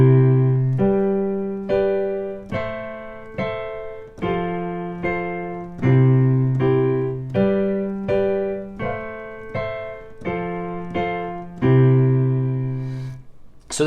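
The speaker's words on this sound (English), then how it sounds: "1564 chord progression used in thousands of pop songs that sounds something like this" A four-chord 1-5-6-4 pop progression played as a repeating cycle of sustained, evenly spaced chords, each struck cleanly and left ringing before the next, with no voices.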